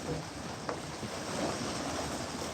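Open-air lakeside ambience on the shore of Lake Zurich on a sunny afternoon: a steady, broad wash of water and wind noise with faint boat or lapping sounds, and a single brief knock, continuing throughout with no talking.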